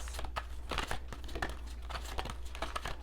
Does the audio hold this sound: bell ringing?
no